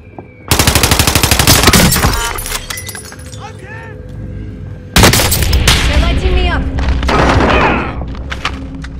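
Rapid bursts of automatic gunfire in the video game Warzone, loud and close, with a heavy opening volley, a lull of scattered shots, then a second intense fusillade under game noise.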